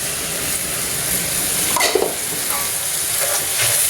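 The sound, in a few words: tomato and green chilli paste frying with keema while stirring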